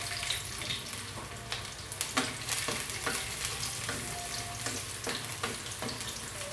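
Garlic frying in a pan for chicken and egg arroz caldo, a steady close sizzle with scattered scraping stirs and clinks of a utensil against the pan, no talking.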